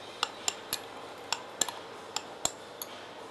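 Spoon clinking against a cup or bowl while stirring hot chocolate ingredients with a pinch of ginger, a run of about nine sharp, bright taps at an irregular rhythm, close and fairly quiet, with no voices.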